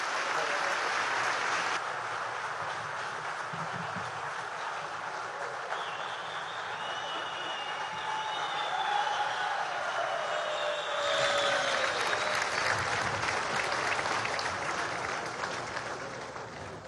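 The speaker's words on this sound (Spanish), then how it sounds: "Un aplauso a Jesús, vale" A crowd at a large outdoor political rally applauds in a sustained, dense wash of clapping that swells and continues for many seconds, heard from some distance.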